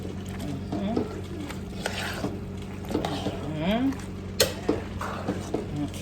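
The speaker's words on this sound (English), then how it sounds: "First I'll stir this in." A spoon stirs spices into ackee in a pot, with soft scraping and clinks of the utensil against the pot, intermittent and close, while low background hum runs throughout.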